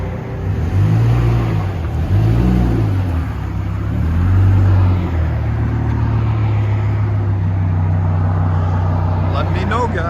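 Chevy Colorado inline five with a straight pipe or Flowmaster exhaust revving up and settling, loud and close, a few rising and falling engine pulls followed by a steady drone.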